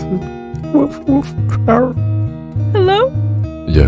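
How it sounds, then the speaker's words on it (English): A German Shepherd barks and yips in short, loud bursts close to a microphone, some yelps rising into whimpering cries, while a person speaks briefly between them. "that was my dog"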